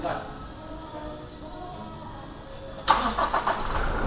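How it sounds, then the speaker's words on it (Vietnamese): A 2019 Toyota Fortuner's engine is started remotely with a smart key; after quiet ambient hum, the engine abruptly cranks and fires up near the listener, settling into a steady idle. "anh em nghe tiếng động cơ đèn nổ chưa?"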